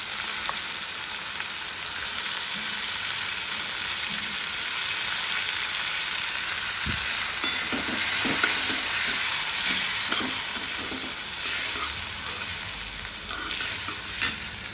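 Browned onions sizzle steadily in hot oil as turmeric and tomato go in, with close, continuous frying hiss and intermittent scraping stir strokes of a spoon against the pan, no talking.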